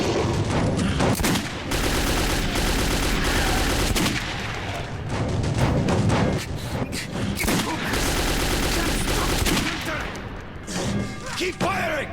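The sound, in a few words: gunfire in video game Metro 2033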